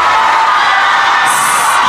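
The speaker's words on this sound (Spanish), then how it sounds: "Bien fuerte el aplauso para recibir parodistas" A live audience welcoming a group of parodists, loud and close, with a thick sustained roar of cheering, whoops and shouts mixed with clapping that holds steady from start to finish, with no clear talk on top.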